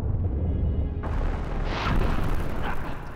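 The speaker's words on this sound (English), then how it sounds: "Fire breath." A fire breath attack in the video game Vagrant Story bursts in as a loud, sustained roaring rumble with a hissing flare, filling the mix over steady background game noise.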